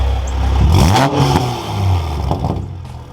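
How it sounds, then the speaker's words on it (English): A Toyota A90 Supra engine with a Magnaflow active exhaust revs up sharply and falls back, a throaty rising and falling roar, close by and loud with no talking. "So we'll do a little rev this way"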